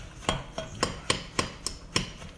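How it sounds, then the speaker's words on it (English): A knife cutting butter into small pieces in a dish for apple crisp, producing seven crisp, evenly spaced taps against the dish, close and clear with little else around them. "Cut the butter up a little bit."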